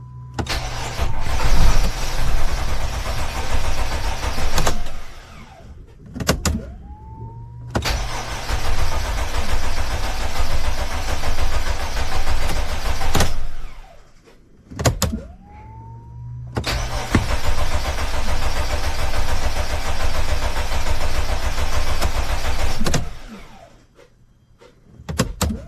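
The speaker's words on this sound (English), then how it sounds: "as you can hear, the engine is running" A Sprinter van's diesel engine cranks, fires and settles into a steady running idle, loud and close, with this start-and-run cycle repeated three times and brief quiet gaps between runs.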